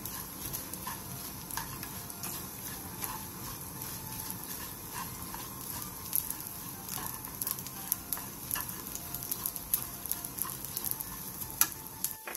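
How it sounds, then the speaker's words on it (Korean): Shelled anchovies and dried shrimp stir-fry over high heat in an oiled pan, giving a continuous soft crackling sizzle with frequent small ticks and scrapes from stirring, fairly quiet and close. "팬에 기름을 두른 뒤 깐멸치 2컵과 건새우 3분의 2컵을 넣고 센 불에서 3분에서 5분 정도 볶아주세요."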